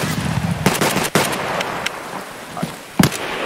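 Gunfire in the video game Escape from Tarkov: a burst of loud, sharp shots, some close together and others spaced apart, over a steady background hiss during a firefight.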